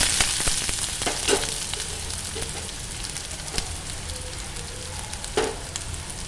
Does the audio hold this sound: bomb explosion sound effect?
no